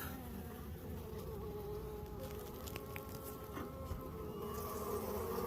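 Bees swarm around an established hive, making a dense, continuous buzzing that stays steady throughout, close and full, with no voices.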